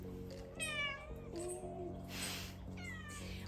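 A cat meows several times, close and clear, with drawn-out rising cries spaced apart and a quiet hum of the room behind.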